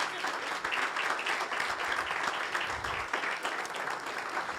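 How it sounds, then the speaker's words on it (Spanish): A church congregation applauds during a sermon, a sustained, dense round of clapping from many people that stays loud and steady for several seconds. "Dale un aplauso al Señor"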